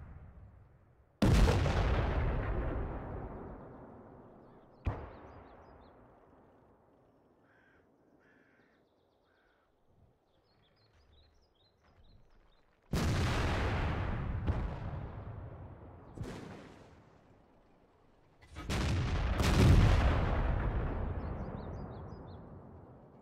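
Tank cannons boom in World of Tanks as a T92 fights on the Fjords map, several loud blasts each trailing into long rumbling echoes, separated by quieter stretches of faint engine and battle ambience.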